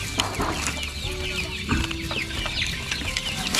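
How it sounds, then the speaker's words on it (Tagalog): Several chickens cluck and murmur close by in an irregular, overlapping chorus, with occasional sharper squawks. "sisilipin natin yung mga manok dito"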